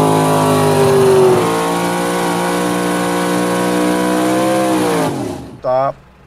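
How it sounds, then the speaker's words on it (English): A drag racing car doing a burnout, its engine holding a loud, sustained high-revving scream before dropping off sharply near the end, followed by a short revving burst. "do the burnout."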